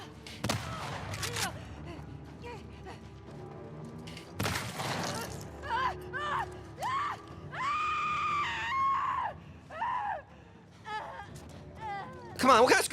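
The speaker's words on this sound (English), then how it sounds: "Come on, what kind of scream is like that?" Several sharp, high screams from a character in The Last of Us Part II, bursting out in short rising and falling cries amid game noise, with someone talking between them.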